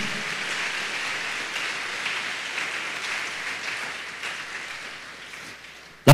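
A church congregation applauds steadily for several seconds during a sermon, a dense, even patter of clapping that fades slightly toward the end.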